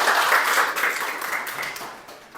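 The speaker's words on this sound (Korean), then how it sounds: "큰 박수로 맞아주시기 바랍니다." An audience in a Korean university lecture hall breaks into warm applause to welcome a professor, a dense burst of clapping that gradually fades.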